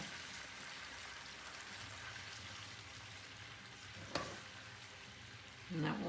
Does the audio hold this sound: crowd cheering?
no